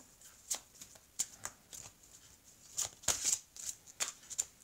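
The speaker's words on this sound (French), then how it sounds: "On va tirer ces cartes." Tarot cards are shuffled and drawn by hand, with soft irregular riffling flicks and short bursts of card slaps close by, fairly quiet, with no talk over them.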